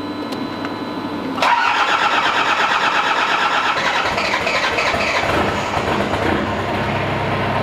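A Toyota Hilux Surf fitted with a custom 3-inch exhaust and cut-out valve cranks and catches, then settles into a loud, steady idle close by with no talking over it.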